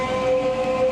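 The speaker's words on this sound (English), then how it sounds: "I'm going to get on this train to our next station" Subway train standing at an underground station, a steady rumbling hum with a sustained tonal whine throughout, loud and close, with no voices.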